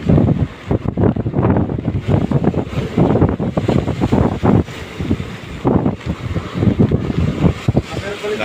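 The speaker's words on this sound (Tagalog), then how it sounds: "Malaki na alon." Large sea waves roll and crash at a harbour landing. The surf and gusting wind keep up a loud, continuous rumble close to the microphone, with a boat nearby.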